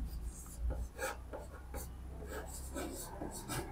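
Chalk or marker scratching across a board in short strokes during a Bengali chemistry lesson on protons and atomic mass, faint and close, with soft rubbing between strokes and no clear talk.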